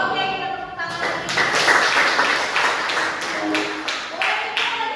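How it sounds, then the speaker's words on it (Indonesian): A group of teachers in a training workshop claps hands together, several bursts of brisk clapping in a room, with a voice speaking over the start. "Oke, kita tepuk tangan lagi"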